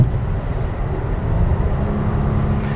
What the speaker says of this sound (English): So if I'm in 4th gear right now and I go to downshift